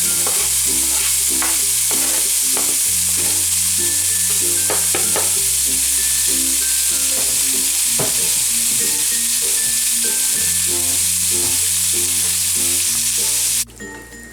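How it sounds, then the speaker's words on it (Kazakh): Beef fat sizzles loudly in a pot while being stirred, a constant close crackle with clinks and scraping knocks recurring through, alongside a low steady hum that shifts in pitch. "сиырдың майын кастрөлге салып, күнделікті тамаққа салғандай етіп қуырып аламыз"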